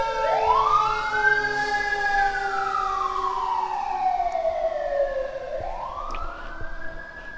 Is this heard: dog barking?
no